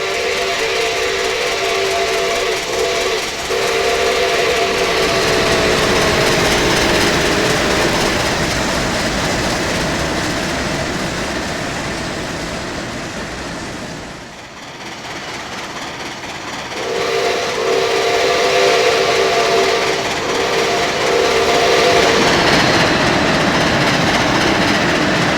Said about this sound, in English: The 614 was really moving as she blasted through Hurricane West Virginia.